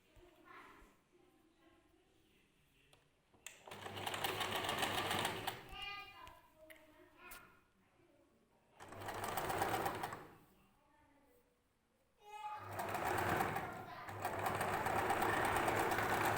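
A sewing machine stitches a long dress in several separate runs of rapid whirring, with quieter gaps between them.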